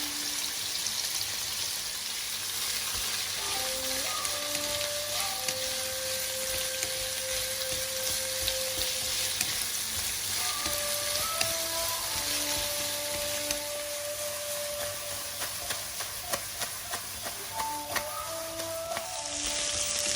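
Leek whites frying for yaki udon hiss and sizzle steadily in a pan, a constant crackling wash that runs beneath melodic background music throughout.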